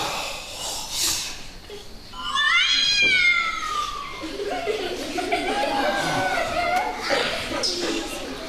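Cats meow and caterwaul during a theatre performance, rising yowling cries that sweep upward and waver, loud and close, amid stage voices and faint audience chuckles; the cries may be performers imitating cats.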